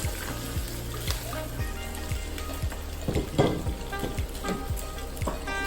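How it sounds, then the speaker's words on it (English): Pasta stirred through a sizzling miso and truffle butter sauce, giving a steady frying hiss with repeated wet slaps and utensil scrapes close by, loudest midway. "And give that a good stir."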